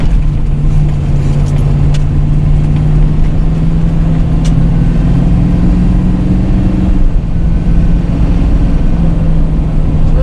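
Steady car engine hum heard from inside the vehicle during a test drive at varied speeds, a constant low drone with road noise and a slight shift in pitch partway through, with no talking.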